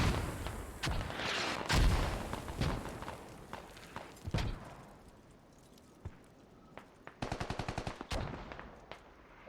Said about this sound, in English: Mortars landing really close next to him as he pushes into the building.